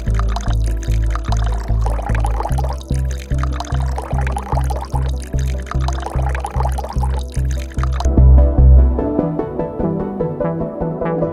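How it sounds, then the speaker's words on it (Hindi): Water poured from close by into a glass holding small chunks of bath soap, a steady gurgling fill with rhythmic pulses that swells briefly near the end and then stops abruptly, leaving a faint trickle. "मैं पानी डालता हूं और पानी डाल के देखते हैं"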